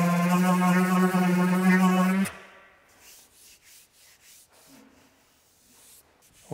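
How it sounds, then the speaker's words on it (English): Sandpaper of 220 grit rubs briskly over wooden plugs set in cabin trim, a close, scratchy rasp lasting about two seconds that stops abruptly, leaving faint scattered handling noises. "The plugs all sanded down."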